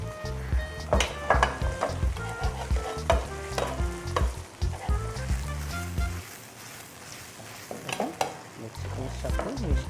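A big spoon stirs black pepper chicken fried rice in a pan, giving rhythmic scraping and clattering strokes over a constant frying sizzle, close and fairly loud, with a brief softer stretch midway.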